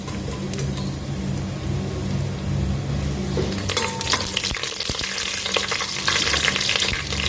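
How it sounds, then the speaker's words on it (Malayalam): Coconut pieces sizzle in a pan of chicken curry base, a steady close frying hiss joined later by louder clattering stirs and spatula scrapes. "നമ്മുടെ നാളികേരക്കൊത്ത് ഒന്ന് സ്മോക്കട്ടെ"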